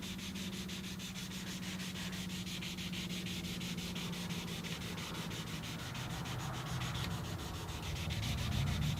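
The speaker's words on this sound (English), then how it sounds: "As you're sanding, it's going to create kind of a slurry, which is a mixture of the water in the finish that we're sanding off." A rubber backing block wet-sands the finish on an acoustic guitar body in steady, continuous strokes, giving a close, even rasping rub that swells slightly toward the end, with no talking.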